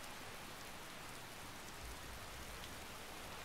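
Steady rain falls in a Skyrim game world, a continuous even hiss of drops on surfaces with a faint low rumble partway through and no voices.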